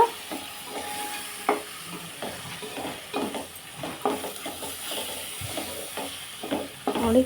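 Vangibath masala is stirred in a pan with a spoon, giving repeated scraping strokes over a soft, steady sizzle, close and fairly quiet, with no voices.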